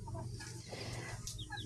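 Native chickens in a backyard free-range flock with chicks, making soft low clucks and scattered bird calls over a steady, busy outdoor background, with no one talking.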